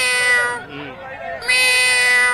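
A man imitates a cat's meow at the Maha Kumbh festival, voicing a loud, drawn-out nasal meow that dips briefly in the middle and then swells again.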